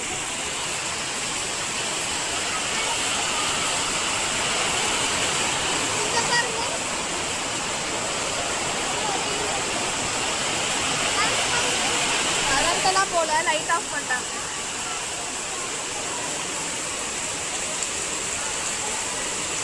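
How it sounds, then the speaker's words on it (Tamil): Heavy rain pours down steadily during a temple chariot festival in Tamil Nadu, a dense, continuous roar of water close by, with people talking over it. "ஹெவியான மழை"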